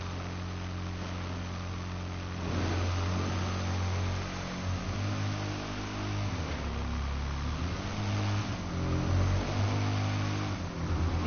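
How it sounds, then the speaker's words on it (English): Motorbike engine in GTA 5 droning steadily with several rev swells and pitch shifts as the bike speeds along, moderately loud and continuous with no talk. "You can wheelie so fast on this bike."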